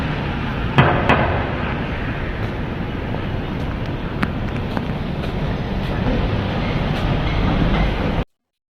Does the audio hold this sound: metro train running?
yes